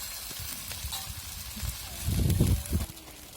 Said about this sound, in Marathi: तर आपण आता पराठा आपण मस्त भाजायला टाकलेला आहे